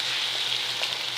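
Ginger and garlic hit hot oil in a pan for Pakistani-style chicken macaroni, giving a steady, close, dense sizzle with a soft hiss and faint crackle, no voices.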